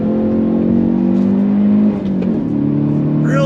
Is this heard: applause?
no